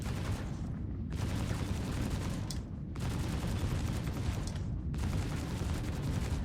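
Rapid bursts of laser repeater fire from a spaceship in Star Citizen, loud and dense, in two long sustained volleys separated by brief pauses, with no talk.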